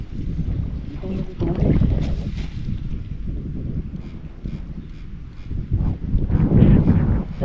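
Steady outdoor wind at an abandoned fishpond buffeting close to the microphone, a low rumbling roar that swells and fades, with faint mechanical creaks and occasional voices underneath.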